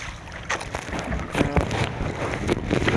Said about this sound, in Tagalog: So medyo lumalakas yung hangin at saka yung alon.